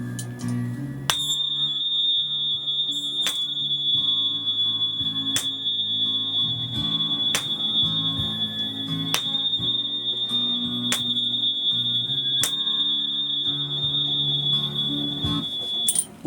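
A tuning fork tuned to A, struck for sound healing, rings as a steady pure tone, with sharp strikes recurring about every two seconds over a soft low hum throughout.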